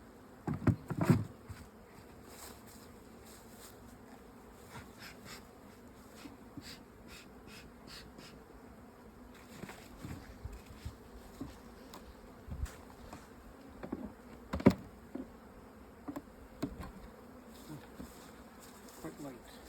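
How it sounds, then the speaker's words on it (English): Honeybees buzz steadily around the hives, a low continuous hum with individual bees zipping close past now and then. "Lots of bees."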